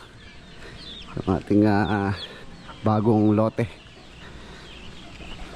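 Hungry free-range farm chickens cluck and call in two short, close bursts over a low outdoor background, with a person talking nearby.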